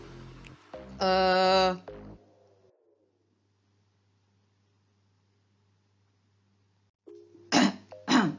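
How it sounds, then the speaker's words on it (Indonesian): Two harsh coughs, one early and another near the end, with a long quiet stretch between them and no talking. "Maaf, batuk."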